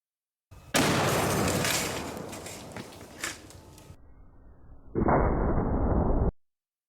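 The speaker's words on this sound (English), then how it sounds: "Already, we have an explosion out the breech." A .50 caliber round explodes in a rifle breech, heard in a slow-motion replay as a loud, drawn-out blast that decays into a muffled rumble, followed by a second burst cut off abruptly.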